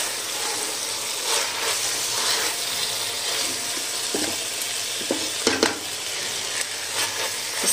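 Mixed vegetables for pulao frying in a pot, a loud continuous sizzle close by with occasional spoon knocks and scrapes against the metal as they are stirred.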